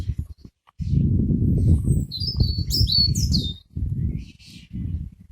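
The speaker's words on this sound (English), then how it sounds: "And here's another loud part with the birds." Birds sing in a woodland canopy, clear chirps and whistled phrases in the background over louder near rustling and footstep-like crunching in bursts.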